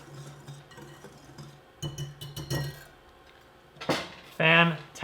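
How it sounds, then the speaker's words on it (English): Whisk or fork clinking against a bowl while mixing flour, baking powder and salt, in light intermittent taps and scrapes that grow louder toward the end. "come in with a whisk or a fork and we'll just whisk those together"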